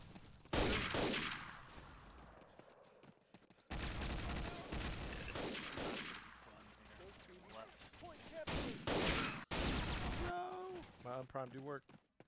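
Sharp rifle and machine-gun fire in the video game Day of Defeat 1.3, loud bursts and single cracks in rapid clusters with gaps between volleys, a player talking over the shooting.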